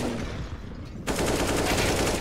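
Counter-Strike gunfire: a dense, loud burst of rapid automatic shots that kicks in after a brief quieter stretch and rattles on without pause to the end, close and unmasked by talk.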